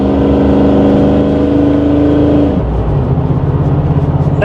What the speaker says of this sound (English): that lit both back tires up instantly